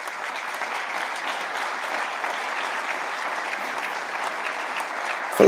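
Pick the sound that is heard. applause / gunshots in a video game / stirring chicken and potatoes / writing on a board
applause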